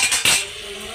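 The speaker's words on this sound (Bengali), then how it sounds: "এবার একটু মিশিয়ে নেব সুন্দর করে।" A utensil stirring hot chillies into already-browned meat in a wok, giving a couple of quick metallic scrapes and clinks within a second, close and fairly loud.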